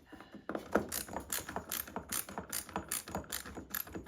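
Screws being tightened into a ceiling fan mount during installation, heard as a run of quick, close ratcheting clicks from a hand tool in repeated short bursts with no talk.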